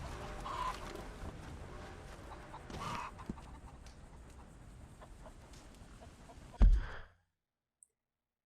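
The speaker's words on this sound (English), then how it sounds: "The Dominique rooster can be found on ranches across Lemoyne, New Hanover, West Elizabeth, and New Austin." Dominique rooster on a ranch in the Red Dead Redemption 2 video game, clucking in scattered bursts over faint ambience, with a sharp louder sound near the end before the audio cuts to silence.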